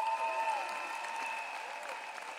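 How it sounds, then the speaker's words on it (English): Audience at a church camp session clapping, a soft continuous patter of many hands, faint and somewhat distant, with a sustained musical tone ringing underneath. "Clap for Jesus."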